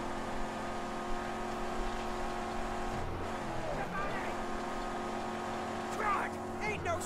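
A truck engine in the Mad Max video game drones steadily and loudly throughout, with a low, even rumble and a few brief higher warbling sounds layered over it.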